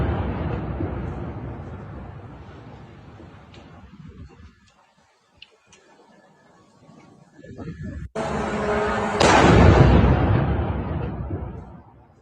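A drone strike explosion recorded on a phone. A loud rumbling burst swells up after a quieter stretch of handling noise and distant rumble, then slowly fades away.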